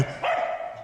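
A dog left abandoned in a rented house gives a single short, sharp bark, fairly close and clear, with nothing else heard.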